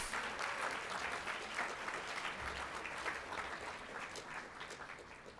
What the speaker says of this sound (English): I want all of us to give her a big round of applause